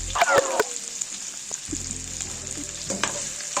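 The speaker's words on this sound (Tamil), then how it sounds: "பிரண்டை இதில் நல்லா வதங்கணும் நல்லா வதங்கி ஓரளவுக்கு பொன்னிறமாகிற அளவுக்கு நல்லா வதக்கணும்" Peeled, finely chopped pirandai (adamant creeper) sautés in a pan for a chutney, with a steady close sizzle and a few quick scraping stirs at the start and near the end.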